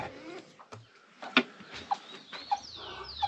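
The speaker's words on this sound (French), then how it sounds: "Alors, réveil avec la volaille." Farm poultry at morning wake-up, hens clucking in short, scattered calls close by, with a few sharper squawks and soft rustling in a quiet farmyard.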